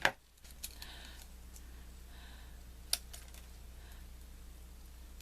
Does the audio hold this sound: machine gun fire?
no